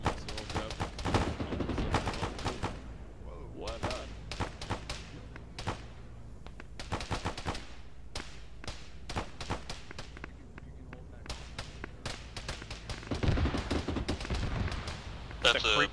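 Gunfire in a ShackTac military game session, near a BMP to the northeast: scattered sharp shots and short bursts throughout, varying in loudness, with people talking now and then.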